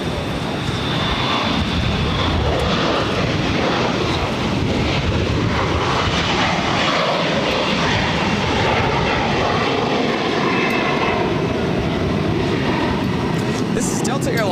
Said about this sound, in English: This is Delta Airlines 1103 taking off to Minneapolis on an A321